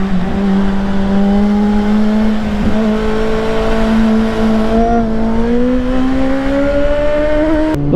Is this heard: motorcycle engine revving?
yes